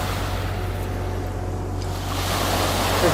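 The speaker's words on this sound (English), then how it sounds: "You can hear me over the waves." Waves lapping on the River Thames foreshore during mudlarking, a steady broad wash of water with low rumbling beneath, continuous and fairly loud with no talking.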